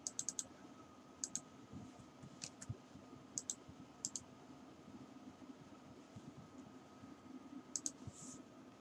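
Someone types a command into a computer's command window. Quiet, sparse keyboard clicks arrive in small clusters with pauses between them, over a low, steady background hum.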